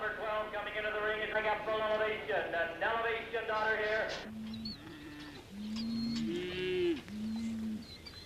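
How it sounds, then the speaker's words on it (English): Beef steers moo in long, drawn-out lows, first a harsh chorus of overlapping calls, then softer, lower moos with a few faint bird sounds in the background. "The beef steer is a very different animal from the dairy cow"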